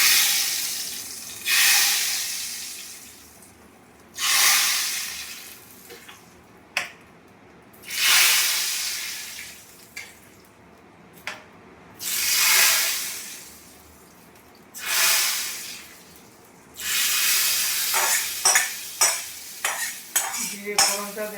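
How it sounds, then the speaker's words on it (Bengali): Cumin seeds frying in oil for a mung dal tempering, heard as several loud bursts of hissing sizzle separated by quieter gaps, ending with a cluster of quick metallic stirring clinks. "ভেজে নিই জিরেটাকে ভালো করে, ডালে দিয়ে দেবো,"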